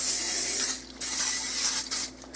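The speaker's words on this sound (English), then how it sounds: "the serving size is about 1/3 second spray." A close, hissing spray of cooking oil in two or three short bursts with brief gaps between them.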